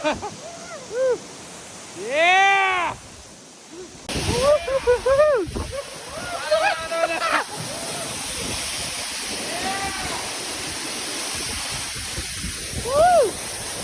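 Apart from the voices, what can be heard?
waterfall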